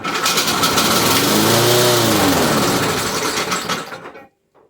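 Briggs & Stratton small engine with a broken intake tube and faulty carburettor diaphragm sputters to life, runs roughly for a few seconds with a rising whine, then stalls and cuts to silence.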